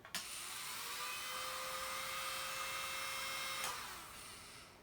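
A small electric nail drill, started by foot pedal, whirs up abruptly, holds a steady high-pitched whine for a few seconds, then cuts off.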